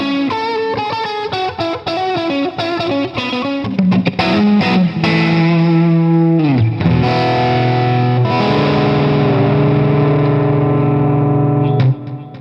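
Fender Player Series Stratocaster electric guitar played through distortion in pickup position 4, with chords and single notes ringing loud and sustained, then a held, heavily driven chord that rings on to the end, with no talk.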